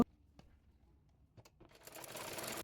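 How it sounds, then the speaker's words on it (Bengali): A sewing machine stitching the shoulder seam of a kameez, a few quiet clicks and handling sounds before the needle starts up in a rapid, steady whirring run that grows louder toward the end. "এরপর কাঁধ সেলাই করে নেব।"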